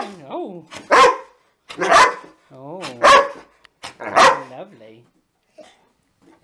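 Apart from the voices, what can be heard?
dog barking excitedly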